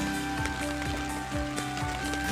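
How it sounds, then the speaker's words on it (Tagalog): Steady rain pours down outdoors in a rural vegetable-growing area, a dense, even hiss of drops on surfaces that holds at a constant level throughout with no voices. "Lumakas na yung ulan."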